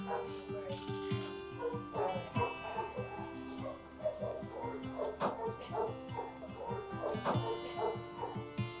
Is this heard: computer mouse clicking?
no